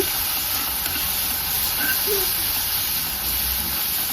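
Onion, ginger-garlic paste and mint frying in a pan for a sprouted-gram sambar, a steady close sizzling hiss that holds evenly throughout with no talking.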